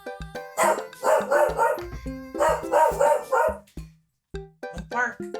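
A pet dog barks in a burst of repeated yaps, then a second volley, fairly close and loud, with a person speaking over and between the barks.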